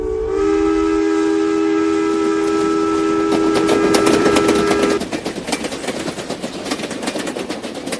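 A steam train whistle blows a long sustained note for about five seconds, then gives way to a rapid rhythmic chugging and clatter of the moving train, loud and close, with no voices.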